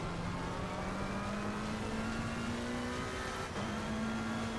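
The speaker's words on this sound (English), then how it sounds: "you can kind of go by the engine sound" A car engine in a racing video game drones steadily with a rising revving pitch, dips briefly on a gear change, then climbs again. The sound is continuous and loud, with no talking.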